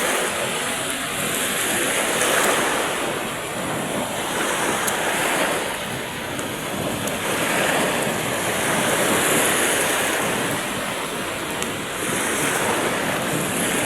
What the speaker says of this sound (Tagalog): Malakas ang hangin guys, oh.